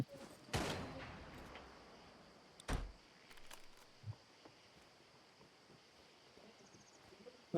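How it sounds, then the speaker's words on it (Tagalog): Sniper rifle shots in an online territory-conquest video game crack out sharply, two loud distinct reports a couple of seconds apart followed by fainter scattered pops and clicks over a quiet background. "Grabe yung tunog ng sniper eh, no?"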